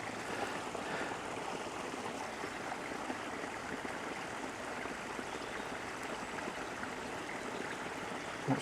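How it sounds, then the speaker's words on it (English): Water escaping from the final pond into a stream, a steady, even rushing and trickling flow heard alone throughout, moderately faint with no breaks. "That's pond number 3, the final pond, and the water escaping."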